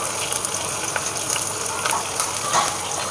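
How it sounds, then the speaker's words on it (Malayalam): Shallots, garlic and curry leaves fry in coconut oil with a dense, steady crackling sizzle, close and continuous, with no talking. "കുറച്ച് വെളിച്ചെണ്ണ ഒഴിച്ച് ഇതിലേക്ക് ചെറിയ ഉള്ളിയും വെളുത്തുള്ളിയും കുറച്ച് കറിവേപ്പിലയും കൂടെ ഇട്ട് കൊടുക്കാം"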